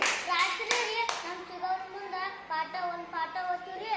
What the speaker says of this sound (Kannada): ಚಪ್ಪಾಳೆ ಹೊಡಿಯಪ್ಪ ಎಲ್ಲಾರ ಅವಂಗು